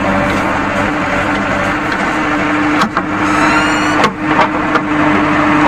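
A JCB 3DX backhoe loader at a pipeline trench dig runs with a steady, loud, close engine drone, holding a rough mid-pitched tone with a couple of brief dips and clunks.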